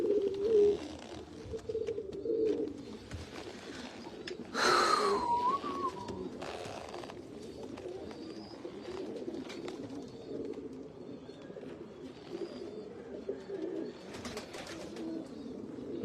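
Breeder pigeons in a loft coo softly, low throaty calls near the start and scattered afterward, over a rustling background with a brief higher whistle-like sound and some faint clatter.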